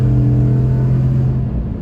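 2019 Chevrolet Silverado pickup engine under acceleration, a loud steady low rumble with a strong droning tone, heard from inside the cab.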